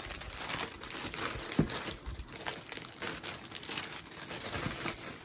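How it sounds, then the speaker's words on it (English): Close, continuous crinkling of a plastic bag, rustling and crackling unevenly throughout with no talking. "Plastic bag, wrapped it up pretty nice."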